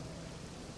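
Steady rain pours down throughout a medieval-themed roleplay scene, a dense, even hiss of falling drops with no talk over it.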